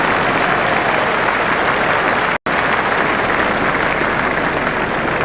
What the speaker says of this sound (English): the crowd is giving them a decent reception